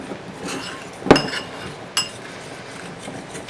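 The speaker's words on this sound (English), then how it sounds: "We'll mix this up into a glaze." Glaze for deep-fried Oreos stirred in a bowl, with a sharp utensil clink against the rim and a second lighter tap over a soft, steady scraping.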